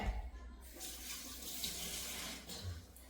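Water poured from a tap into a curry pot, a steady broadband rush running for about three seconds with no talking over it.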